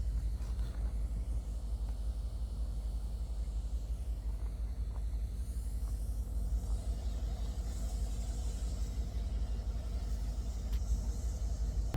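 A low, steady rumble of a train approaching on the track at an old historical train station, faint and continuous throughout with no voices.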